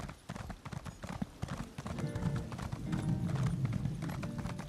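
Horse hooves clip-clop steadily at a gallop while riding in The Elder Scrolls Online, close and prominent, with a brief whinny and faint game voices in the background.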